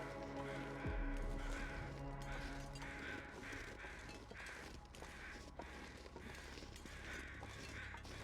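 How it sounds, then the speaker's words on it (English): Crows caw over and over in The Long Dark video game, their harsh calls overlapping in a busy flock above a constant low rumble of ambience. "What's with all the birds?"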